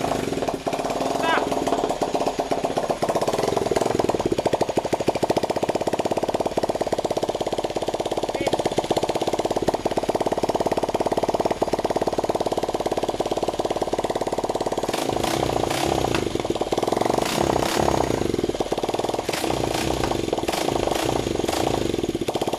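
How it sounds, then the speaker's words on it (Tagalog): A motorcycle engine running with no oil in an opened-up engine makes a loud, harsh, clattering mechanical hammering throughout, with people talking over it. "Ito ay ang motor walang oil."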